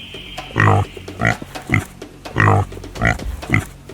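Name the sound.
pig grunting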